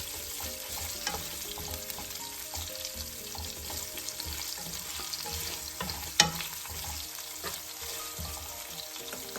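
Onion sautés in a pan for methi matar malai, giving a soft, steady sizzle with occasional stirring scrapes and one sharp clink, heard alone without voices.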